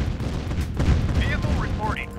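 Battle gunfire from units in the 1996 real-time strategy game Command & Conquer: The Covert Operations, steady rattling shots and booms mixed with short synthetic blips, heard beneath someone talking.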